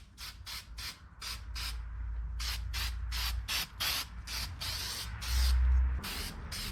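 Burnt red primer sprayed from an aerosol can onto a 1984 Toyota mini truck: a quick series of sharp hissing bursts, some short and some longer, close and clear over a low background rumble.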